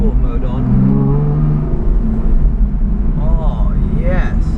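With sport mode on, an Aston Martin accelerates, its engine rising into a louder, deeper growl that swells through the middle, with voices talking over it.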